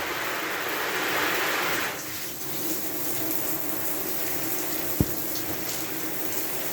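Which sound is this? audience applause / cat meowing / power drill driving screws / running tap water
running tap water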